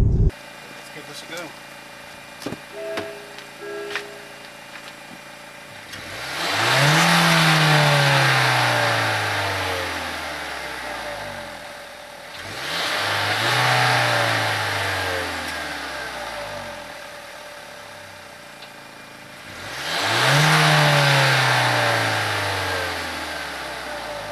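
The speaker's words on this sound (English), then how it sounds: "just rasp it a bit, just so you can hear the uh, the sound of the exhaust" An MG HS car engine revs hard three times, each burst rising to a loud exhaust roar and then falling back to idle.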